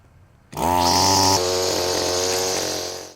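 A small two-stroke string trimmer engine catches after a pull and roars to life up close, revving high then settling into a steady loud idle.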